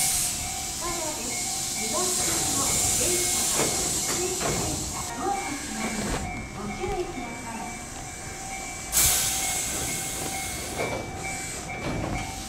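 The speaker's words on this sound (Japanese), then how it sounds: "ドアが閉まり塚田駅を発車。" An electric train on the Tobu Noda Line hums and rattles as it pulls away from Tsukada Station, with rhythmic clacks over the rails, a sharp hiss of air, and a steady tone.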